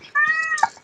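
A kitten gives a single short, high meow lasting under a second, close and clear against a quiet background.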